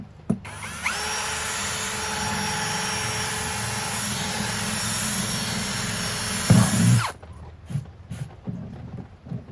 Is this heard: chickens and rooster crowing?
no